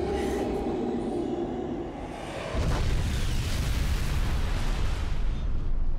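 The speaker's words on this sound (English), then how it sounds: "It means the radius of that explosion." A loud, low boom bursts in partway through from an explosion in the video game Yakuza Dead Souls, its broad roar rising over the earlier game sounds and then rumbling on steadily to the end.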